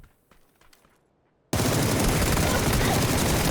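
Sustained, loud automatic gunfire from the battle royale game PUBG, erupting abruptly after a quiet stretch of faint sounds and continuing densely to the end.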